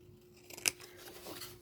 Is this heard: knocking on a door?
no